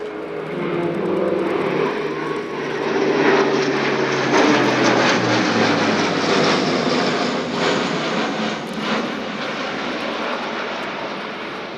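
An Airbus A400M Atlas military transport of the German Air Force accelerates in for a fast flypast at an air show, its turboprop engines making a loud sustained roar and drone that holds steady for over ten seconds.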